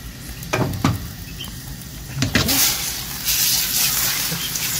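Couscous sauce frying in a pot, a steady sizzle with occasional stirring scrapes and clinks, close and moderately loud, with no talk over it.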